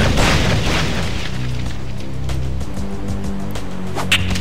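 An explosion in RuneScape opens with a heavy, close boom that rolls into a low rumbling tail and then fades down, with a faint click near the end.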